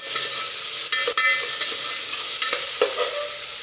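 Tomatoes frying in a pan while being stirred for a bhindi gojju, with a steady close sizzle and a few soft scraping strokes, no talking.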